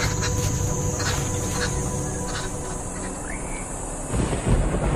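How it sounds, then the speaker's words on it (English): Distant thunder over the dry savanna of Ruaha rolls as a low, continuous rumble beneath a wash of broadband hiss, swelling briefly near the end, with no one speaking. "at long last, distant thunder signals a welcome transformation."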